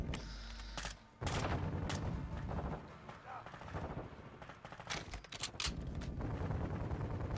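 Gunfire from the Call of Duty Modern Warfare 2 campaign: repeated bursts of shots and heavy booms crackle through a dense, loud battle mix, with a brief lull near the start and voices occasionally under the action.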